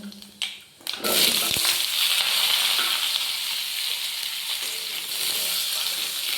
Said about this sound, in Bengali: তেলের সাথে ভালো করে নাড়িয়ে কুমড়োটা ভেজে নেব।